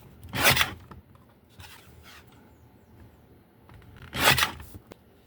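Paper is cut out for a torn-effect papercraft card with a butterfly and nature theme. Two short, crisp bursts of cutting and rasping come a few seconds apart, close to the listener, with faint rustling in between and no talking.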